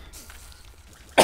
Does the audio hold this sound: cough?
yes